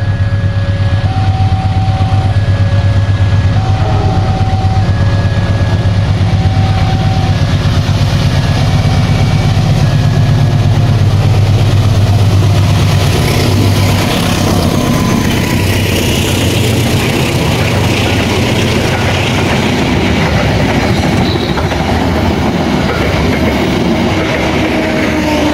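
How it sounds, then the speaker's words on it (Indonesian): A Commuter Line train departs Cikuda Patuh station on its run from Cicalengka to Padalarang, its heavy engine droning loudly with sustained horn-like tones early on, then rumbling and clattering as it pulls away. "Commuter Line diberangkatkan barusan dari stasiun Cikuda Patuh ya"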